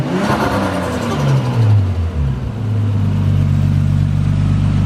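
Car engine revving hard with a soda can jammed over the turbo blow-off valve, a loud close roar that climbs and falls in pitch, then settles into a steady heavy drone.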